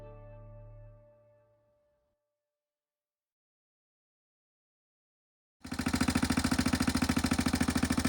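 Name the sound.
Suzuki Savage chopper engine running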